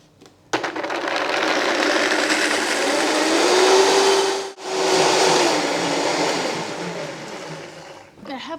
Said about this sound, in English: I want to blend this so it's completely smooth.